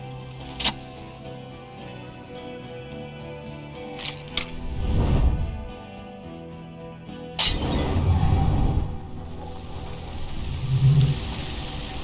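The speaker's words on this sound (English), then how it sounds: "With a crash of shattering glass and terrible roar, the fire draws in oxygen." A thrown spirit bomb in Disco Elysium bursts with a sharp crash of shattering glass and then a deep, whooshing roar of fire drawing in air, loud and close after a quieter, rumbling stretch.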